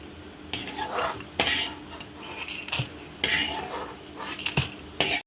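A metal spoon scrapes and clinks against a frying pan as fried chana dal is lifted out while making a spicy lentil powder. Irregular close rasps and sharp knocks are heard against a faint sizzle, with no talking.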